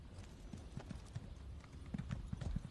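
A small horse in the fantasy role-playing game The Elder Scrolls Online trots along, its hooves clip-clopping in a steady, fairly quiet rhythm close by, with no voices over it.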